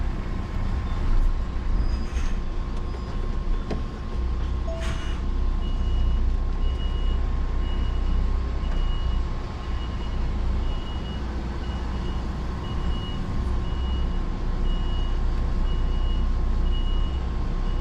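Regular reversing beeps from a truck pulling a trailer repeat at a steady pace, fairly faint beneath a heavy, continuous engine and road rumble.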